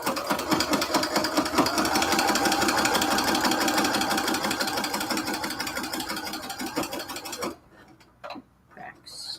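A sewing machine stitches a cathedral window quilt curtain with a fast, steady mechanical rattle for about seven seconds, then stops abruptly, leaving faint quiet handling sounds afterward.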